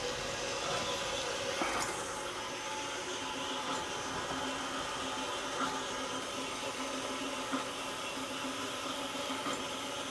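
A saw blade cuts steel in a machining shop, a continuous grinding whine with faint periodic ticks, steady and close with no voices.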